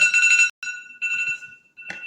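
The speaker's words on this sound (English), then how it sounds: "That's my alarm as well" Phone alarm going off nearby, a loud electronic tone in repeated bursts with short gaps between them, alone with no talking.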